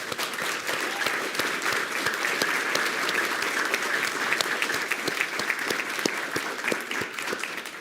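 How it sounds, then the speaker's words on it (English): Sustained audience applause at a school board meeting honoring student medalists, steady dense clapping filling the room for the whole stretch without speech. "How about a round of applause for our students?"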